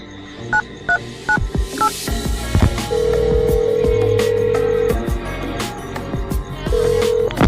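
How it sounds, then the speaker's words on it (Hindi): Phone keypad tones beep several times as a number is dialed, followed by long ringback tones with clicks and soft background noises between them. "अपने मोबाइल से किसी को फोन करने लग जाता है।"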